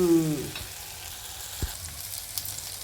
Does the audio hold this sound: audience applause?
no